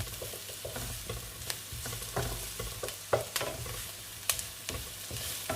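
Onions frying in toasted sesame oil, a steady close sizzle with repeated scraping and stirring clicks from a utensil in the pan, no voices.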